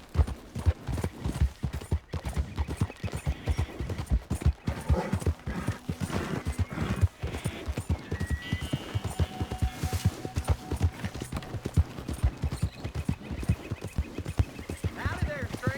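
Horse hooves clip-clop at a steady trotting rhythm in the Red Dead Redemption 2 video game, close and continuous throughout, with occasional speech and game sounds over them.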